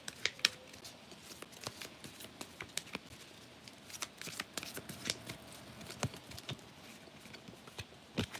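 Tarot cards shuffled by hand at a desk, giving a quiet, irregular run of crisp riffling clicks and flutters that keeps going the whole time.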